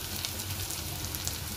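Ginger and garlic sizzle quietly in a pan, giving a soft, continuous crackling hiss with no voices.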